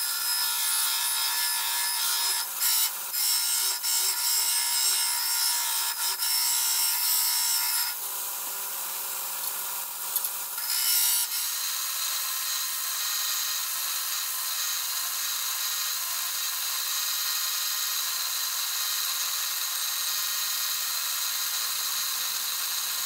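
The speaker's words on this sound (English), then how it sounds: "now I have a lot of material to hold on the belt sander" A belt sander grinds a metal workpiece for a micrometer build, giving a continuous harsh, gritty rasping hiss that varies slightly in tone as pressure changes, close and steady, with no talking.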